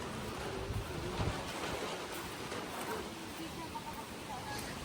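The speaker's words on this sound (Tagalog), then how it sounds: "Wala naman ng ulan pero ang lakas ng hangin." Strong wind without rain at a campsite roars steadily against the microphone, a constant rushing buffet with faint voices barely audible beneath it.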